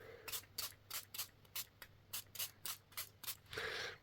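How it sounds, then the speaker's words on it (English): Quick hissing spritzes from a spray bottle wetting a Brusho watercolour painting, about a dozen short bursts in an uneven rhythm, close and fairly quiet, ending in a longer spray. "we're going to spray some more water on it."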